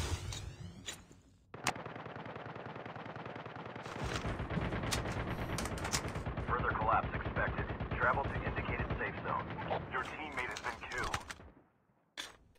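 Rapid video-game gunfire bursts rattle almost continuously for about ten seconds, loud and close, with a voice talking over parts of it before it cuts off near the end.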